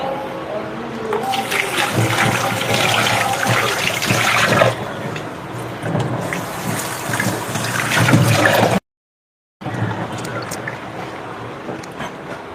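A metal plate is rinsed under a steadily running tap, a continuous splashing rush with shifting intensity as it is handled, cut off by a short silent gap before the water resumes.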